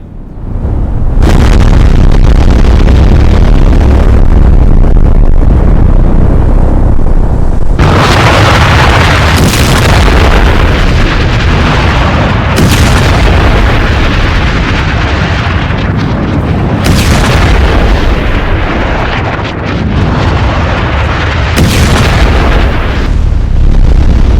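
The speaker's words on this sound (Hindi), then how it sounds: "बंकर बस्टर बॉम्ब फिर दाग दिया है ट्रंप ने" Bunker buster bomb explosion effect: loud, deep rumbling blasts that roll on continuously, with fresh booming bursts at intervals and no voices.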